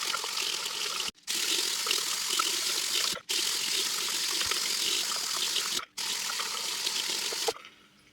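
Monstera cuttings being washed under a running tap, a steady close rush of water that cuts off abruptly three times before ending in near silence.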